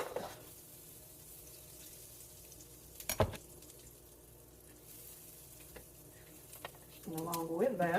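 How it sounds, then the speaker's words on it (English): Butter melts in a pan with a soft, steady sizzle that stays faint throughout, broken by a sharp clank midway and a voice speaking near the end. "First, let my butter melt a little bit."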